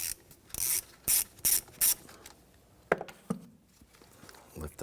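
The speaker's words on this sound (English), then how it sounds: "Use your 10mm socket." A 10mm socket ratchet clicks while loosening a car battery terminal on a Kia Sorento, with several short bursts of ratcheting in quick succession, then scattered clicks and taps, fairly quiet and close.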